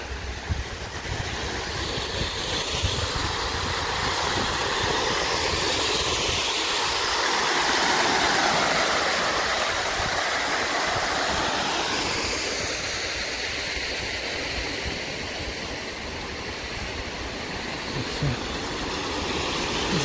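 Steady broadband rush of water cascading down a cascade fountain in central Antalya, continuous and fairly loud throughout, with faint background murmur.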